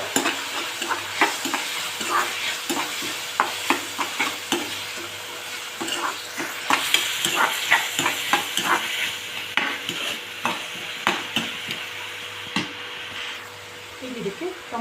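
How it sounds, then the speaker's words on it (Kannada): Soybean kheema frying with salt in a pan, a steady sizzle under a busy rhythm of repeated stirring scrapes and taps, with a voice talking faintly at times. "ಇದು ಸ್ವಲ್ಪ ಉಪ್ಪು ಹಾಕೊಂಡ್ಬಿಟ್ಟು ಕೆಂಪು ಬರೋ ಥರ ಫ್ರೈ ಮಾಡ್ಕೊಳ್ಳೋಣ."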